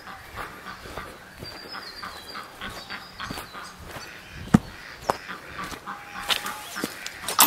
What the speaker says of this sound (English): The chickens sometimes need rounding up.